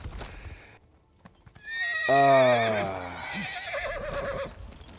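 A horse in the first-person game Elder Scrolls Online gives a loud neigh and whinny mid-clip, with soft hoof clip-clops before it and a long, wavering cry that fades out.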